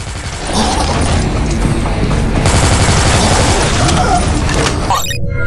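Dense automatic gunfire in the mobile shooter Dead Trigger 2: loud, continuous rattling bursts with mechanical clatter that run for about five seconds, then cut off abruptly.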